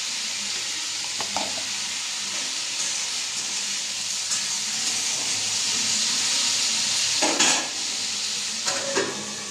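Food frying in a pan, a steady broad sizzle and hiss throughout with a few brief clinks of stirring.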